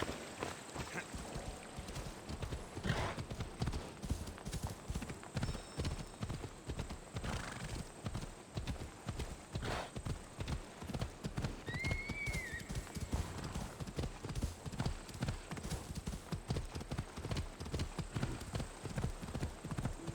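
A horse gallops in the video game Assassin's Creed Odyssey on PS5, its hooves beating a rapid, steady clip-clop throughout, with a brief whinny partway through.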